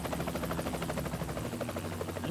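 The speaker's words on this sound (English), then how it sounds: "We've been immediately rumbled by a helicopter." A helicopter in the action video game Dead to Rights hovers with a steady rhythmic rotor chop and low engine drone, fairly quiet and continuous, without speech.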